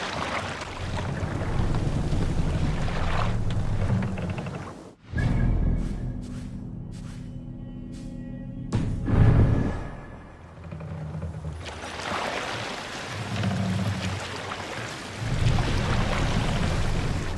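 A Viking longship from Assassin's Creed Valhalla runs under sail, with loud, steady wind and water rushing past the hull. The rush drops away briefly in the middle, where a few sharp knocks are heard, before the surge returns.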